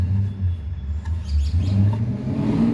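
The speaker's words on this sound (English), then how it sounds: "here comes the first loud car. Yep, it's that yellow Mustang." A yellow Ford Mustang passes through a residential mountain area, its engine a deep, loud rumble that swells as it revs and accelerates by, heard alone at close range.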